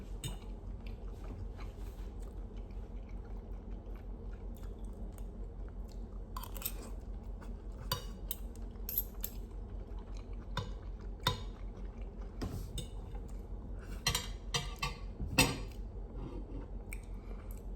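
Someone eating a home-cooked village-style meal, with quiet close chewing and sporadic sharp clinks and scrapes of cutlery against a plate over a low steady background, no talking.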